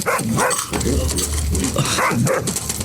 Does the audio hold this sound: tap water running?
no